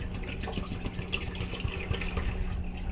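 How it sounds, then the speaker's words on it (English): Nutrient solution poured into the reservoir of an MTN Garden GrowStation hydroponic unit growing tomatoes, a soft continuous trickle and splash of liquid at close range, fairly quiet. "So to add the nutrients, we're just gonna pour our solution in here."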